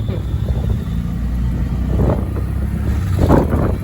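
Busy road traffic in Pune, a continuous low rumble of passing cars and motorbikes with occasional revving engines, moderately close, with faint voices mixed in.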